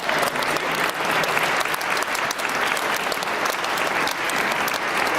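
Dense, sustained applause from a reception crowd at a college alumni athletics celebration, loud and continuous throughout with no voices over it.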